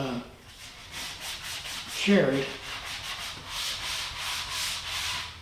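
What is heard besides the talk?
hand sanding wood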